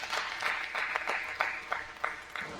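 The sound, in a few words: applause for the back-to-back state champions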